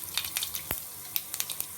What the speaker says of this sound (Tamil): ஜீரகமும் நல்லா பொரியணும்